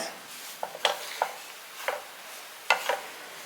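Food frying in oil and ghee is stirred in a pan, giving soft scraping strokes and a few sharper clinks over a faint background sizzle, close and fairly quiet.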